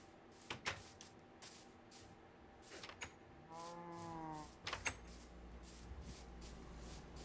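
A single drawn-out moo from a cow in Minecraft rises and falls in the middle, surrounded by faint clicks, taps and soft mechanical thumps at low volume.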